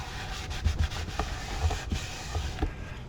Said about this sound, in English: I'm just burnishing it in right now.